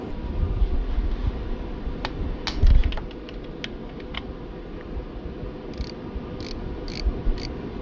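Ratchet wrench working a 12mm bolt on a Honda 3.0 VTEC alternator, a series of quiet clicks and a brief louder clatter, with a rapid burst of ratcheting near the end.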